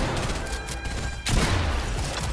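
Video game gunfire: a rapid volley of shots crackles close and loud, then a heavier, booming burst of fire takes over partway through, continuing to the end.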